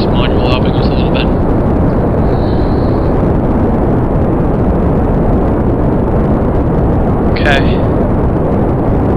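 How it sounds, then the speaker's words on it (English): Rocket fuel boosters firing in Kerbal Space Program: a loud, continuous, broad roar of thrust holding steady, with a voice speaking briefly over it. "We're gonna throttle up. All the fuel boosters are gonna run out."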